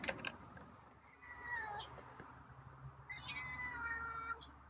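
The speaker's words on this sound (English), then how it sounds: "You're meowing." A feral cat meows twice, drawn-out and insistent, fairly close against a low background hum.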